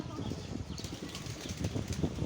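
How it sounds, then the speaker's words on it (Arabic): Pigeons flapping their wings while feeding on olives on a farm, a continuous rustle of wingbeats and scattered light fluttering heard fairly close, with outdoor background noise throughout. "قاعدين نشوف الحمام ياكلوا بالزيتون"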